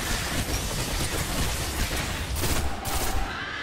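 Continuous rapid gunfire from a primary weapon in the Destiny video game, a dense steady stream of shots with a few louder cracks toward the end.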